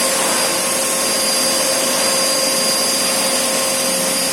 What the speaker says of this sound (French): Donc là, je suis en mode aspiration.